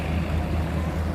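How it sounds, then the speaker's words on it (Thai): Diesel engine of a tugboat running at full power on a river in Thailand, heard from a distance as a steady, continuous low rumble with a faint whistle from the turbo, no talk. "ขนาดไกลขนาดนี้เสียงทโบยังวิดวิดอยู่เลยนะครับ"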